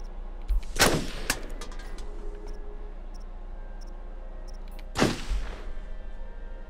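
Gunshots in the Until Dawn video game: two loud, sharp single shots about four seconds apart, each with a brief rattling echo, over a quiet ambient background with no voices.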